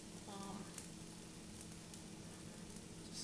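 Sorghum chapati flatbread (jowar ki roti) sizzles in a hot pan, a quiet steady crackling hiss with a faint tap near the start, no talking.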